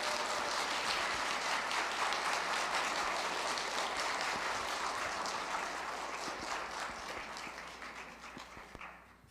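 An audience claps in sustained applause after a lecture by a Catholic nun at an Advent talk, dense and steady before thinning and fading out at the end.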